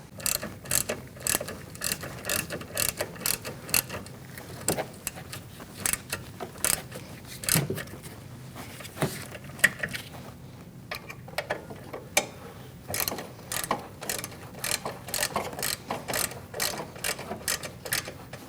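A hand ratchet tightening the rear brake bolts on a 2008-2014 Mercedes-Benz C300, with rapid rhythmic clicking in repeated bursts and short pauses between strokes, close and fairly quiet with no talking.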